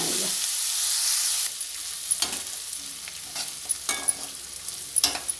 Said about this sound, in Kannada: ಅಲ್ಲಿ ತನಕ ಇದನ್ನು ಸಣ್ಣ ಉರಿನಲ್ಲಿ ಹುರ್ಕೊಳ್ಳೋಣ